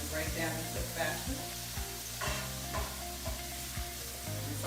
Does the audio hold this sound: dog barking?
no